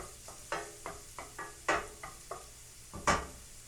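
Carrots and other vegetables stir-fry in a pan for shrimp fried rice, with a steady low sizzle broken by about eight sharp spatula scrapes and clacks against the pan at uneven intervals, close and fairly loud.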